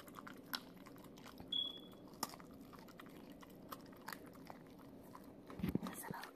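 Quiet crunching and chewing as Huskies eat raw food, in short, irregular bites, close by, with a brief faint beep and a louder crunch near the end.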